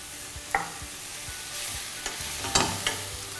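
Onions with a little salt sautéing slowly over low heat in a pan for onion soup, a steady soft sizzle broken by a few sharp clicks and scrapes of a spoon stirring against the pan.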